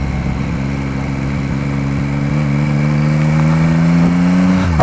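Engine braking on a Yamaha Tracer 9 GT motorcycle: a close, steady engine drone whose pitch shifts slightly and then climbs toward the end, continuous and without voices.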